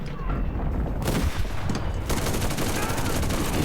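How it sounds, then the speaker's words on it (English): Gunfire in an Enlisted battle, with a T-28 enemy tank firing back at a Panzer III J: dense bursts of shots and booms layered throughout, loud and close, with a sharp blast around the middle. "He's shooting back though."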